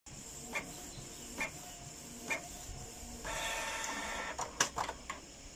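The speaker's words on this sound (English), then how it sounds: "Print check pattern." A Canon G3000 inkjet printer prints a nozzle check pattern, with several soft clunks and clicks followed by a steady motorized whir of paper feeding and the print head moving, then more clicks close by.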